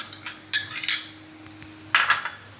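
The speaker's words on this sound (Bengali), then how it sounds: "আমি একটা বোলের মধ্যে এই 1 কাপ পরিমাণ মুড়িটা ঢেলে নেব" Dry puffed rice, one cup of muri, tipped into a bowl in a home kitchen, heard as two brief rattling bursts of pouring grains with clinks against the bowl, separated by quiet.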